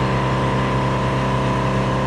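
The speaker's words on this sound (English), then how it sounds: "Sorry about the air compressor." A steady, droning motor hum from an air compressor running nonstop in a garage, with a constant low rumble and tonal whine.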